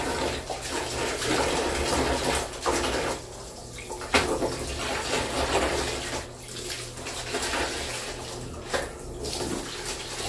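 Pre-printed cross stitch fabric being rinsed in water, a steady wash of splashing and sloshing with a few sharper swishes, close and continuous for the whole stretch, no talk.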